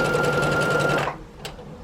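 Sewing machine stitching quilt seams, a loud, fast, steady mechanical whir close by that stops abruptly partway through, leaving a couple of faint clicks.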